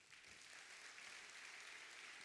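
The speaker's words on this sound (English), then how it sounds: "Ladies and gentlemen, a big round of applause for our partners." Applause from a conference audience at an education and skills forum, a steady dense wash of many hands clapping, heard faintly and evenly throughout with no talk.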